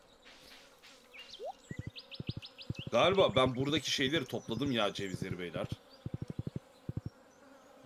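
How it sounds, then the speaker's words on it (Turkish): Buzzing fly in Stardew Valley, a series of short, evenly spaced pulses in brief bursts, heard under and between people talking and a few chirpy game tones. "Bu sinek sesi tamam."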